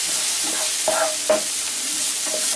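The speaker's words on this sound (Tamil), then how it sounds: "இப்போ மஞ்சத்தூள், இஞ்சி பூண்டு பேஸ்ட் தேவையான அளவு போட்டு" Turmeric powder and homemade ginger-garlic paste sautéing with softened onions in a pan for a potato bonda filling: a steady sizzle runs throughout, broken by a few spoon-stirring scrapes.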